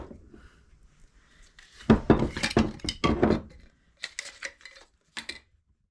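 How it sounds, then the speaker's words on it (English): A spoon clattering in a bowl while parsley, garlic powder, onion powder and paprika are stirred together, a quick flurry of scraping clinks followed by a few shorter taps, close and alone. "Now we're just mixing it all up together real quickly"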